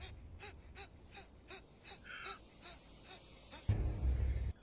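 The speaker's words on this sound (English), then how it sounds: "it's just more of the gasping thing" Short gasps repeat in a steady rhythm of about a dozen in under five seconds, moderately close, as an edited loop, with a louder low burst of noise near the end.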